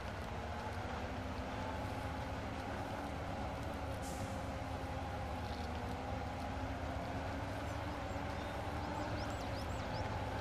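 A truck engine in the Spintires off-road driving game drones steadily under throttle as the 4x4 log-loaded truck climbs a hill, a loud continuous rumble with a slowly shifting pitch.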